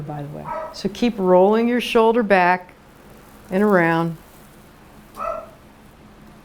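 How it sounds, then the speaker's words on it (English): A dog barks and whines in the background during an indoor chair yoga class, several bursts mixed under a person talking steadily in the foreground. "we are going to have dogs and cats and all kinds of wonderful things barking in the background"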